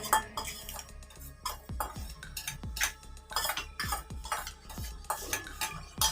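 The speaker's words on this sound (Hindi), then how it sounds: "ये देखिए चम्मच से आप लोगों ने अच्छे से इसको फेंट लेना है।" An egg is beaten with a spoon in a bowl, giving a quick, steady series of close metallic clinks and scrapes against the dish, with faint background hum and no talk.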